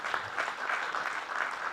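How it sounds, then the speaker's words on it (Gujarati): An audience at a school lecture series event gives a steady round of applause, moderately quiet and continuous throughout. "તાળીઓ પાડો પહેલાં મારા માટે"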